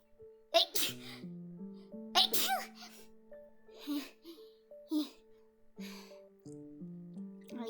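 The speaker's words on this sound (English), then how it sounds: "Are you gonna sneeze one more time?" Two sharp sneezes burst out near the start, followed by child-like voices talking and babbling over soft background music in a video game scene.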